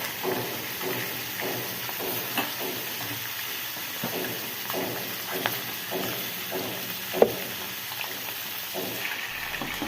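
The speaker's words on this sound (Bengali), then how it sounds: "এবার কুমড়ো বড়িগুলো তেলের মধ্যে দিয়ে এক দু মিনিট ভেজে নেবেন" Small pumpkin lentil dumplings frying in oil: a steady close sizzle and hiss with scattered pops and a few utensil clicks, no voices.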